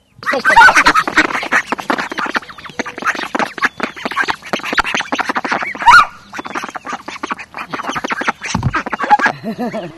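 A busy flock of young ducklings and chicks peeping and quacking nonstop, close and loud, with overlapping calls.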